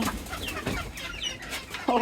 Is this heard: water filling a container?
no